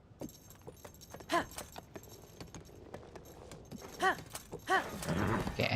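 A horse trots in Zelda: Tears of the Kingdom, its hooves clip-clopping in a steady, fairly quiet rhythm, with a few brief horse vocal calls breaking in.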